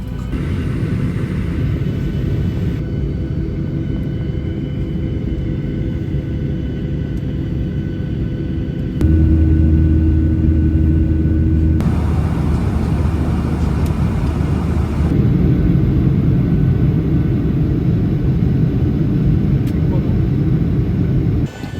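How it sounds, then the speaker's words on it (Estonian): Aboard a passenger plane before takeoff, steady loud cabin hum and engine rumble that swells partway through, with voices talking underneath. "Me oleme lennukis, kohe lähme lendu, lendame 2 tundi ja siis jõuame Berliini."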